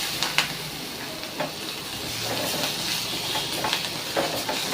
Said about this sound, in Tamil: இப்போ நல்லா கிண்டி விட்டுக்கிட்டே இருங்க. பிடிக்காத அளவு கிண்டி விட்டுக்கிட்டே இருக்கணும்.